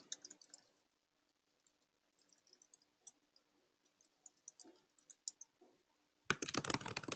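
Keys tapped on a computer keyboard in a quiet room, sparse and soft at first, then a louder burst of rapid clicking at the very end.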